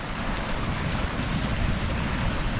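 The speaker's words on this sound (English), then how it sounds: "I love the sound of that water." Continuous rushing water, a broad steady roar like a stream or surf, loud and unbroken throughout, beside a November campfire.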